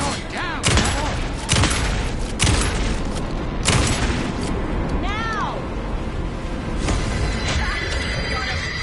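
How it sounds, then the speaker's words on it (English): Video game gunfire bursts out in repeated loud volleys and booms, several sharp blasts spaced a second or so apart, with ricochet-like whines in between and voices talking under the shooting. "Anderson, pin him down with gunfire for me to get the light on him."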